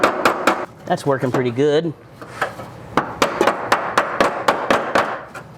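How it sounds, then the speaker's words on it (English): A pneumatic air hammer fitted with a seam ripper chatters in short rapid bursts, cutting spot welds on an MGB front fender panel. Someone speaks briefly between bursts. "This is my seam ripper mounted to my air hammer."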